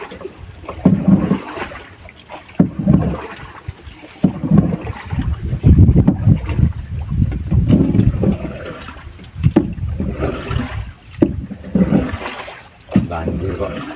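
Strong gusts of wind buffet a small boat out on open water, roaring and rumbling loudly in uneven surges, with occasional voices mixed in.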